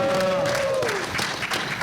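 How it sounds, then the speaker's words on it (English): Audience applause fills a Comic Con panel room in Los Angeles, a dense wash of clapping with some crowd noise and a brief voice tone fading at the start. "Big round of applause for"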